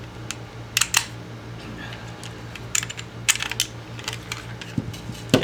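Small metallic clicks and taps as a gun is opened up for trigger work, irregular sharp ticks scattered over a low steady hum, close and without speech.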